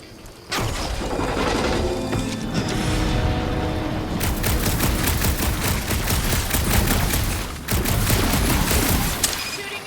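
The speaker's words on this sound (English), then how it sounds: "Shooting your way out of every problem again, Peter?" Heavy sci-fi gunfire erupts in Marvel's Guardians of the Galaxy video game, dense rapid blasts mixed with crashes and booms in a loud, sustained barrage with brief lulls.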